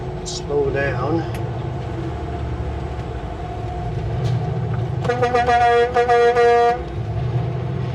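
A car horn blares close by in one long, loud blast broken by a few brief gaps, cutting over the low road rumble inside a moving vehicle.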